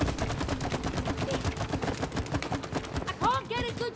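Rapid gunfire in the co-op video game It Takes Two, a dense run of quick repeated shots going on steadily with game music and effects, then a few swooping chirps near the end.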